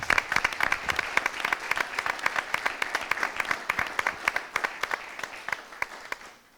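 A hall audience at a Spanish hockey federation centenary event in Valencia applauds a referee, steady distinct claps building and then fading out over several seconds, with no talk.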